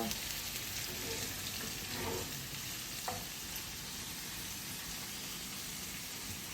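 About three large cloves of garlic sauté in a pan, giving a steady broadband sizzle that stays close and even throughout, with a few faint clinks along the way and no talking.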